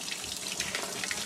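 Water runs steadily as it is drawn for a fish tank, a brief close splashing gush like a tap filling a container, with no voices.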